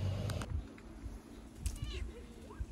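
A domestic cat meows a few times indoors, short rising calls close by over a low background hum, with faint household noise between them.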